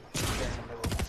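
Gunshots in an online multiplayer shooter, a loud, dense burst of rapid fire followed by a second close volley after a short pause.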